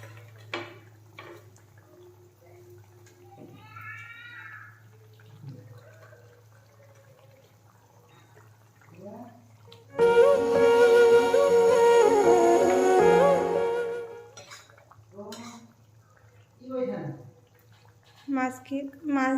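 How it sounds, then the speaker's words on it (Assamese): Fish drops into a pot of boiling tomato curry, setting off a loud burst of sizzling and bubbling that lasts a few seconds before settling, with a voice talking quietly before and after. "যিহেতু ভালকৈ উতলি গৈছে, এতিয়া ইয়াত মাছ দিম।"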